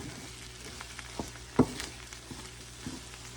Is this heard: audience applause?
no